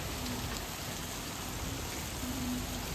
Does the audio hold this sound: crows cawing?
no